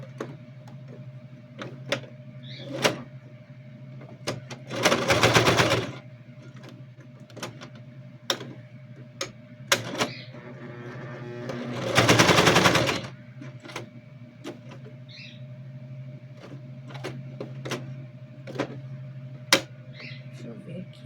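A sewing machine stitches a children's backpack with sporadic clicks and ticks and two loud whirring runs of stitching, close by, with a voice speaking in between.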